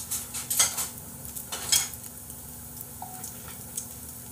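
Pork belly sizzles on a grill with a steady crackling hiss, accompanied by close clinks and scrapes of metal utensils against the pan, no talk.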